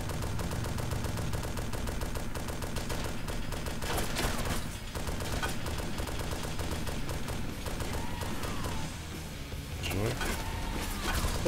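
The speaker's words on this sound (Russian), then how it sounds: "Стреляет откуда-то." Gunshots crack out during a car chase, several scattered bursts over a constant rumbling, music-like background, with voices present.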